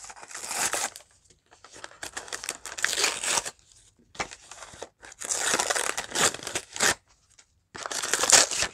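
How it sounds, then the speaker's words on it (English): Gift wrapping crinkles and rustles up close in repeated bursts of crisp crumpling with brief quiet gaps, a few tearing-like moments mixed in. "Crinkling."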